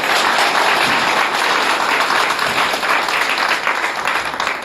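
A crowd at a press club in Indore bursts into loud, dense applause to welcome a speaker, a continuous wash of many hands clapping that holds strong throughout and eases slightly at the end.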